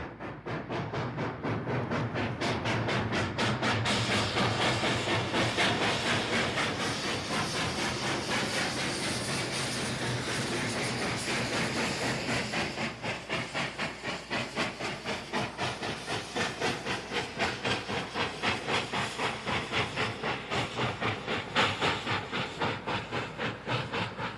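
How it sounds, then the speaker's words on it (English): Steam locomotive climbing a steep grade near the small town of Ruth, its rapid rhythmic exhaust chuffs echoing off a massive tailings pile, steady and fairly loud throughout with hiss underneath. "Listen to the sound of the engine echoing off the massive tailings pile"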